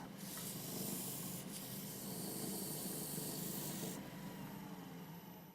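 Continuous abrasive rubbing of 240-grit sandpaper against a wooden bowl spinning on a lathe, a steady hissing scratch over a low motor hum, close and even throughout.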